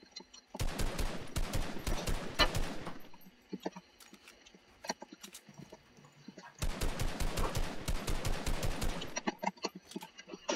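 Rapid automatic gunfire from a shooting video game in a one-on-one match: two long, loud bursts of fast shots separated by a few seconds of quieter, scattered single shots, with no talking.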